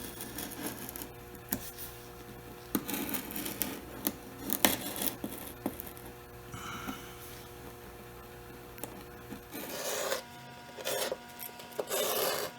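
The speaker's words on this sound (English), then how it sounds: "I'm going to take a razor blade and try to open up these cracks" A razor blade scrapes and shaves along cracks in the quarter-inch wooden top of a Globe Wernicke barrister bookcase, giving intermittent close scratchy strokes over a low background hum, with a denser burst of scraping near the end.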